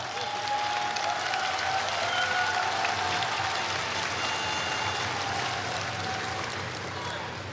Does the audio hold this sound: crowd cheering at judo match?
yes